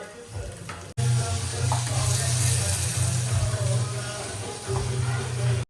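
Onion, curry leaves and tomato fry in a pan, sizzling steadily with stirring scrapes and a low rumble, briefly cut near the start, under occasional faint speech.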